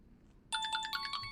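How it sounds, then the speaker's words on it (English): An incoming call on a radio show's phone hotline announces itself with a loud electronic ringtone, a burst of bright, repeating tonal pulses that starts suddenly after near silence and rings on alone. "Oh, we've got a call coming in on the hotline."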